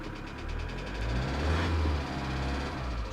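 A 2008 Kia Sedona 2.9 CRDi diesel with a bad knock, revved with the pedal floored: a steady, rough, low drone that swells slightly midway, heard close and alone.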